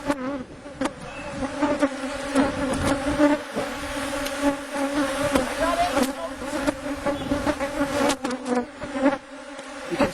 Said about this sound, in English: You can see the number of bees flying around